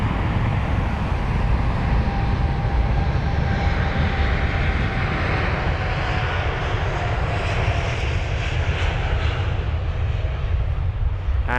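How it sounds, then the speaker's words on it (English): A Boeing 787 Dreamliner departing London Heathrow as an American Airlines flight to Chicago produces a steady, loud jet-engine roar that holds for the whole stretch, with no voices. "Dreamliner off to Chicago, flight number AA91."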